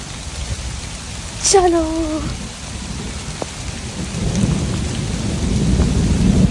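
Heavy rain hisses loudly and steadily during an apple-season downpour, with a rolling thunderclap early on and a brief rising tone; someone speaks a short word over the downpour.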